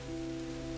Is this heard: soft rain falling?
yes